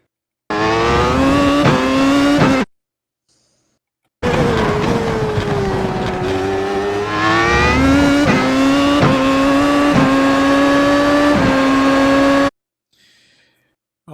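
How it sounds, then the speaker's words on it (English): A Williams FW31 race car in the iRacing sim at Sonoma screams loudly as it accelerates, its engine pitch climbing and dropping through quick gear shifts across two long bursts separated by a silent gap. "So you'll be in second gear, accelerating out of here."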